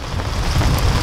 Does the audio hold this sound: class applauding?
no